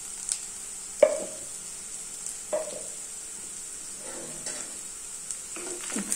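Chopped onion for bottle gourd pakodi fries in a pan with a soft steady sizzle, broken by a few scraping stirs at irregular intervals; no voices.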